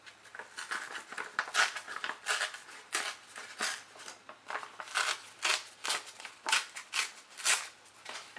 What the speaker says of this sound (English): Let's cut down the edge some here.